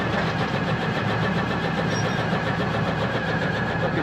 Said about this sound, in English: Got weird idle. Can you hear it? It's hydraulic.